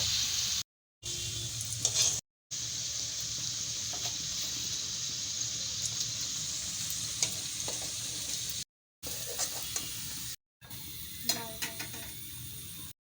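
Potato spring rolls sizzle steadily in hot oil, a continuous crackling hiss broken by a few brief silent gaps, with occasional clinks and faint voices.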